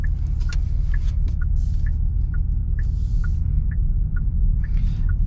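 A 2023 Genesis G70, tuned to 500 torque, turning at full lock: a steady low engine hum and rumble under repeated light ticking or squeaking clicks, heard from inside the cabin with no talk.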